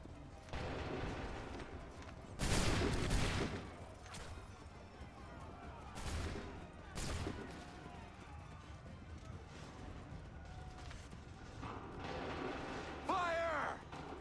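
Musket volleys in the Assassin's Creed III video game: a few sharp, broad blasts spaced several seconds apart, the first the loudest, over a low background of distant battle noise and a brief shout near the end.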